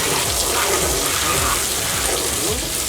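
Soap-and-water washing of a VW T3 Syncro Vanagon 4x4 bus engine: a steady, dense splash and spray of running water throughout, close and continuous.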